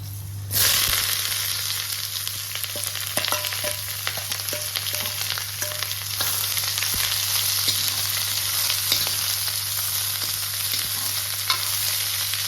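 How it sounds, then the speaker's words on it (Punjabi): Chopped onions dropped into hot mustard oil burst into a loud, steady sizzle that starts abruptly and continues close up for several seconds, with occasional stirring clicks and a low constant hum underneath. "ਲਓ ਜੀ ਤੇਲ ਆਪਣਾ ਗਰਮ ਹੋ ਗਿਆ ਤੇ ਹੁਣ ਆਪਾਂ ਇਹਦੇ ਵਿੱਚ ਪਿਆਜ਼ ਪਾ ਦਾਂਗੇ"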